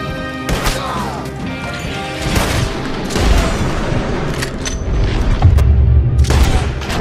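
Red Dead Redemption 2 gunfight: rapid bursts of loud gunshots and crashing impacts, overlapping booms and ricochets in a continuous chaotic barrage, close and intense throughout.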